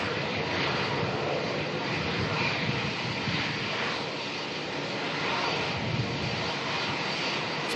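Jetstar airliner taxiing out at Melbourne Airport, a steady, broad jet engine roar holding at an even level for several seconds with no talk over it.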